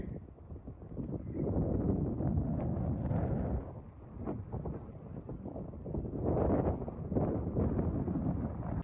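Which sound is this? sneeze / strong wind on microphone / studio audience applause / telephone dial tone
strong wind on microphone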